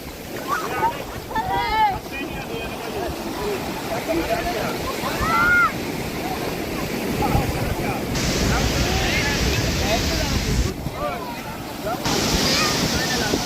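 Sea surf rolls continuously onto Sagreshwar Beach in Vengurla under gusty wind, while people talk and call out nearby.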